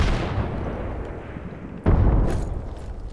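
A frag grenade blast in the battle royale game Apex Legends: a low rumbling background, then a sudden loud boom partway through that rolls on and fades slowly.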